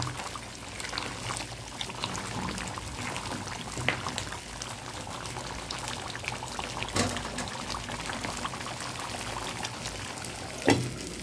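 Mutton being fried and stirred in a pan, a steady soft sizzle and bubbling under the whole stretch, with a few sharp clinks of the spoon against the pan, close but fairly quiet.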